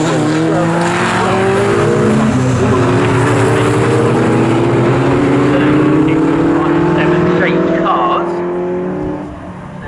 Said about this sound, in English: Chris Kirby, the 35-year-old from Brentwood, goes through on the inside